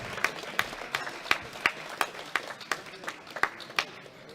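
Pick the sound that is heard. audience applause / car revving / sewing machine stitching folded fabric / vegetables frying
audience applause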